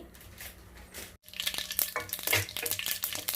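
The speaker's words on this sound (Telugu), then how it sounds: "నెయ్యి, నూనె, ఆవాలు వేస్తున్నానండి" Mustard seeds crackle and sizzle in hot ghee and oil in a home kitchen pan while cooking coriander rice, a brief gap and then a burst of dense, loud popping and spitting up close.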